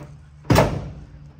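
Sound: door opening

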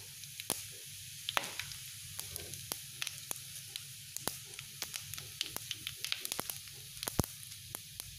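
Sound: fennel seeds added to hot pan, sizzling

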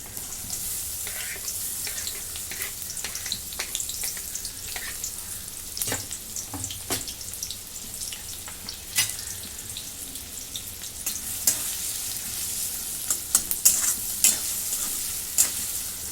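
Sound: chopped onion frying in hot oil in a kadai

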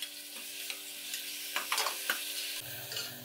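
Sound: sautéing onion and tomatoes in a pan

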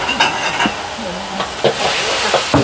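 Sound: pad thai stir-frying in a wok over high heat

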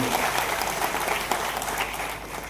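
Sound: applause

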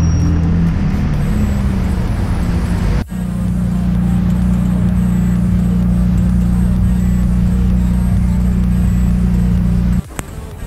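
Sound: turbocharged V8 supercar engine driving by

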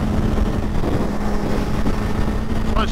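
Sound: 2021 Suzuki Hayabusa motorcycle accelerating hard in fourth gear

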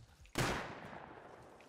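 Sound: gunfire in the video game Rust

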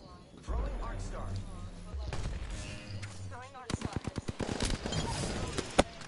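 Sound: incoming gunfire in the video game Apex Legends

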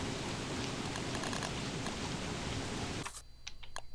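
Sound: rain in a video game

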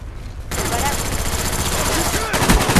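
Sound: M2 machine gun firing in a video game

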